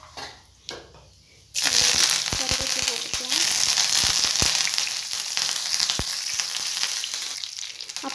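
Cumin seeds hit hot oil in a pan and burst into a loud, dense sizzle that holds steady, with scattered sharp pops and crackles close by after a brief quieter moment; no talking.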